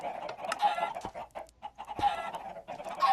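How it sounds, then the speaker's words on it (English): Several chickens clucking and squawking close by in a steady, busy stream of overlapping calls with a few sharper cries, no talk over them. "There's so many chickens."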